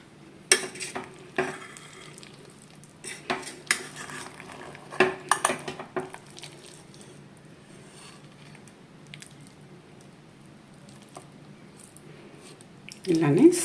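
Paneer rice is slowly mixed in a pot, with scattered spoon clinks and soft scraping in bursts between quiet stretches, close by, ending in a louder clatter.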